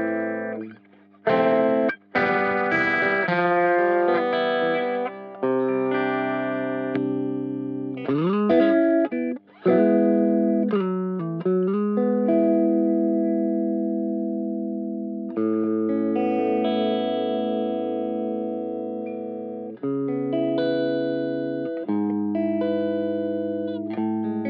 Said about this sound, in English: Opto tremolo. Simulates classic pulsing tremolo effect on 60s American amps.